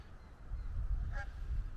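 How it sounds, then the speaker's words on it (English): A goose gives one brief honk among a flock by the river at The Pandy in Flint, North Wales, heard over a low outdoor rumble. "Loads of geese down the river."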